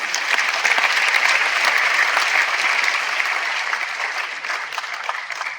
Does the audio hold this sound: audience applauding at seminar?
yes